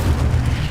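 An Incendio fire spell cast in the Hogwarts Legacy video game makes a deep, rumbling boom that holds steady and loud for under a second, with no voices over it.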